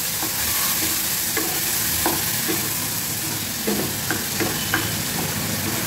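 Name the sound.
tomato puree frying and being stirred in oil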